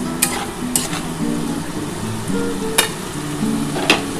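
Katla fish fries in hot oil in a covered pan over high gas with green chillies, giving a steady crackling sizzle broken by a few sharp pops and clinks.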